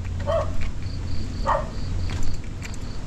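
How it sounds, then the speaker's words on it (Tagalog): A dog outdoors gives two sharp barks a little over a second apart, moderately close, over a steady hum of background noise and faint insect-like chirps. "Ako, may aso."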